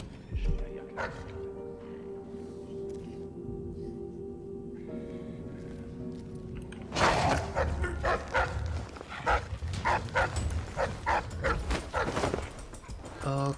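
Guard dogs barking in the stealth video game Dishonored 2 over a low ambient game soundscape. A muffled bark comes first, then a dense burst of excited barks and yips later on, with someone talking intermittently.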